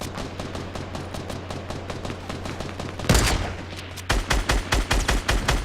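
Rapid automatic gunfire in Fortnite, a steady stream of fairly close shots, then a sharp louder blast and a closing run of heavier evenly spaced shots, with no talking.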